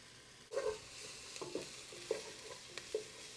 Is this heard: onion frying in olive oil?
yes